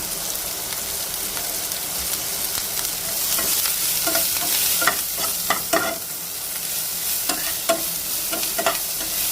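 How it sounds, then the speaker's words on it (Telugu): Green chillies, dry red chillies, curry leaves and onions frying in oil as a tempering for fenugreek curd, a continuous crackling sizzle with stirring and scraping ticks that grow busier midway, heard close with no talking. "పచ్చిమిరపకాయలు ఎండుమిరపకాయలు కరివేపాకు ఉల్లిపాయలు అవి కూడా పోపులో వేసుకొని ఫ్రై చేసుకున్నాము"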